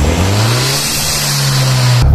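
A Hyundai Genesis 2.0T engine fitted with a cold air intake revs loudly up close, its deep drone rising and holding steady for a couple of seconds.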